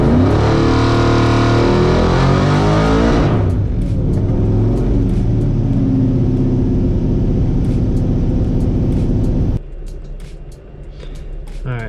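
A nitrous-fed car engine with a Holley Terminator X revs hard on a dyno, a loud rising harmonic wail that climbs for a few seconds, then drops to a rough idling rumble and cuts off near the end.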